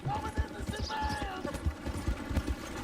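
Horse hooves galloping in Red Dead Redemption 2: a rapid, uneven run of low thudding beats mixed with game ambience and a faint background whinny.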